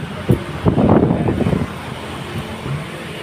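Strong wind buffets a microphone outdoors while someone waits for passengers, a rough gusty rumble swelling for about a second and then easing into a lower steady rush.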